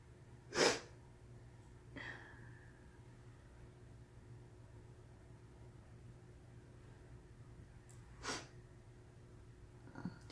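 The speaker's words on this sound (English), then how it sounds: "Sorry about the sniffles." A few sharp nasal sniffs, spaced seconds apart, close and fairly loud against a quiet background.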